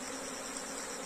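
A honeybee swarm gives a dense, steady buzz of many wings, moderately loud and unbroken through one brief moment, with no voices.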